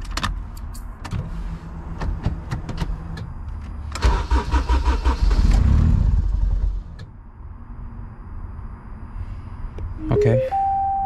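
A Honda with a K-swap harness cranks and fires up near the microphone, rising into a loud idle that settles, followed by a steady electronic tone.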